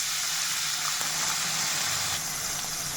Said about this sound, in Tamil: இதில் 2 நார்மல் சைஸ் வெங்காயத்தை எடுத்து பொடியாக கட் பண்ணி வச்சுட்டு இதை சேர்த்துக்கலாம்.